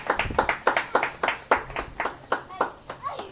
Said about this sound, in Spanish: ¿Cuántos aplauden al Señor, por favor?